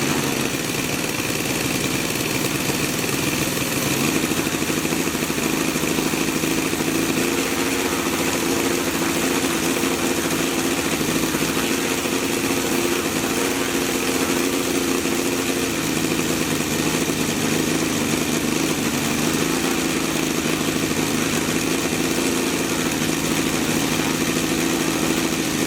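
A Saito FG 60cc R3 four-stroke model aircraft engine runs steadily at about 3,000 RPM, a loud continuous buzzing drone with a faint shift in pitch partway through, and no voices over it.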